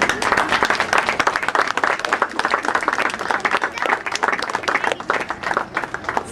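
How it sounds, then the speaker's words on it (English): Graduation day audience applauding a graduate, with dense, steady clapping from a crowd sustained throughout and a faint murmur of voices underneath. "Some applause, please."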